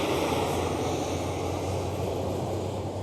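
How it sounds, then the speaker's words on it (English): An Embraer E190 jet of German Airways departs Amsterdam Schiphol with a steady, broad engine roar that holds evenly throughout, moderately distant and unbroken. "German Airways E190 took care of the sound effects of the departing engines"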